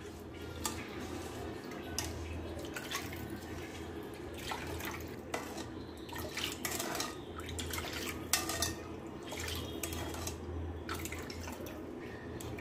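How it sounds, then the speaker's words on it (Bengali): Milk, mango, sugar and agar agar powder being stirred together in a bowl, a soft clinking of spoon against the container with faint liquid sloshing, steady and quiet throughout, with no talking. "এবার সবকিছু ভালো করে মিশিয়ে নিব।"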